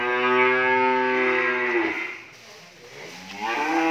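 Cattle at a Vietnamese cattle farm moo in a long, loud, close call lasting about two seconds, followed by a quieter pause and then the start of another low moo.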